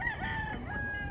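Rooster crowing with chickens on a farm, a sustained cock-a-doodle-doo over a busy, windy background with clucking fowl nearby.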